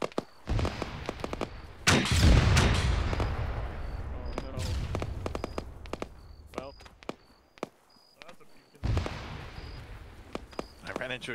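In the Arma 3 military shooter, a heavy explosion booms with a long rumbling tail among scattered sharp gunshots and faint radio beeps, followed by more intermittent shots.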